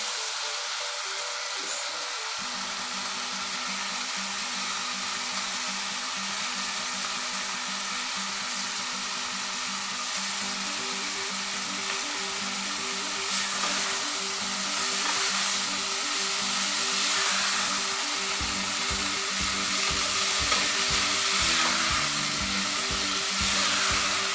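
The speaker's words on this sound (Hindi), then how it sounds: "इसको अच्छी तरह भूनना है।" Fenugreek leaves and potatoes fry in a pan with a steady, close hiss of sizzling oil that runs on without a break, a low rhythmic hum underneath and no talking.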